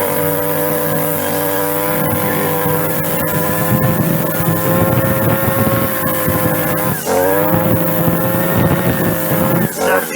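Stihl weed eater with its spark arrestor removed, engine running loud and steady at high revs with a slightly rough buzzing note and a brief dip in pitch midway through.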